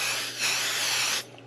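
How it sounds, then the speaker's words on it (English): Spray adhesive, a sticky rubber-cement-like aerosol, hisses in one steady blast onto quilt backing fabric for about a second, close to the microphone, then cuts off. "you're going to basically spray the back of this and adhere it to there."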